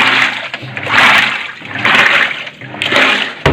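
Water rushes and churns inside a Sharp top-loading washing machine during a test after a leak repair, in loud surging pulses roughly every second, close up with no talk.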